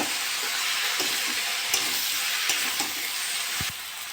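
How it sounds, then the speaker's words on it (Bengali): Fish, beans and potatoes sizzle steadily with spices in a hot pan, a constant close fry with occasional scraping stirs cutting through. "মশলার সঙ্গে ভালো করে কষে নিয়েছি"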